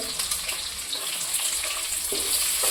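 Capsicum frying in a pan gives a steady, close broadband hiss and crackle that holds evenly throughout, with no talk over it.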